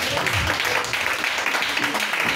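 A church congregation at a French-language service applauds, a dense continuous wash of clapping mixed with voices and cheering.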